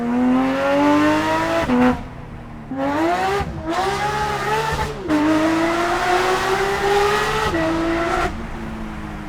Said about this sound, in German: dieser Sound, dieser Sechszylinder-Saugerklang, hier hat es jetzt seine komplette Entfaltung